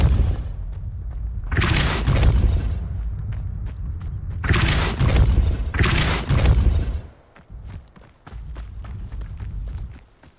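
Spell effects from the Hogwarts Legacy video game, including the Depulso force-push spell, land as loud, bursting whooshes and booming thuds in repeated waves, with rumbling impacts and scattered footsteps between them.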